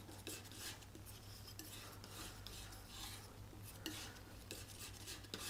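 A palette knife working white into oil paint, a soft continuous scraping and smearing with repeated faint strokes, close but quiet.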